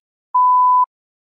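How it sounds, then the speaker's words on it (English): One steady electronic beep signalling the start of a spoken answer in a language exam, a clean half-second pure tone, loud and alone against silence. "Please begin speaking after the beep."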